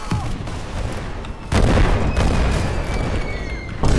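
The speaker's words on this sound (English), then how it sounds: "Did that grenade kill me too?" A grenade explosion in a Roblox shooter, a heavy booming blast followed by a sustained rumbling roar, with another sharp burst at the end amid ongoing battle noise.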